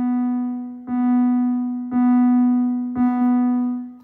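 A steady modular synth tone from a Tiptop 257t setup is gated by a sharp-attack, medium-decay envelope, pulsing with three crisp, evenly spaced re-triggers over a sustained drone.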